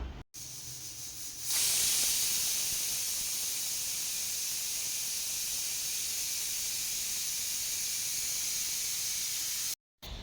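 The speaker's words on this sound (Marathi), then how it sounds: "आणि तर इथे कुकर ठेवून घेतलं, तर शिट्या काढून घेऊया।" A pressure cooker boiling corn cobs vents a loud, steady hiss of steam that starts abruptly after a short quiet moment and holds unbroken for about eight seconds before cutting off.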